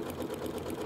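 A Janome sewing machine stitches a one-step buttonhole, its rapid even whirring and needle clatter running continuously and close up, with no voices.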